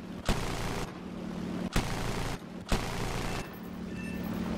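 Aircraft machine gun in the War Thunder video game fires three loud bursts, each opening with a sharp crack over a steady engine drone, with brief gaps in between.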